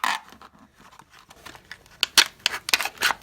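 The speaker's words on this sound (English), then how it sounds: "I will use my little Swiss Master executive to cut the plastic and get this out of" A small Swiss Master executive pocket knife slices through plastic wrap, giving a run of close, crisp snips and crinkles that grow louder and more frequent toward the end, with no talking.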